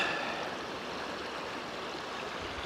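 A river flows with a soft, even wash of rushing water on an overcast early morning, faint and constant with no voices.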